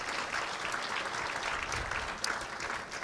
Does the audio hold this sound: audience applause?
yes